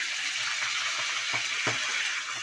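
Spinach and Malabar spinach leaves land in a hot pan of browned cumin, setting off a steady close frying sizzle with a couple of soft thumps and stirring scrapes.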